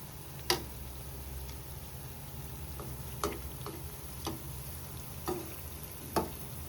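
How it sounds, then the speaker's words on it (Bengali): Thekua frying in oil, a faint steady sizzle under several sharp, spaced clicks and taps as the pieces are turned over one by one. "এখন ভাজা হোক এক পাশ হয়ে গেছে আমি আরেক পাশ উল্টে দিচ্ছি"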